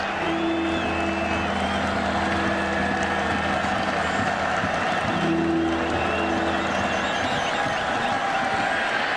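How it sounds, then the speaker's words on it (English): Stadium crowd noise at a 2017 college football game between Cal and North Carolina, a steady roar of cheering that swells midway and holds for about nine seconds, with no clear voices standing out. "The crowd responding to third down for Cal"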